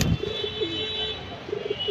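Jabra pigeons coo in low, soft, repeated phrases, a pair of rolling calls near the start and another toward the end, close by over a steady background hum.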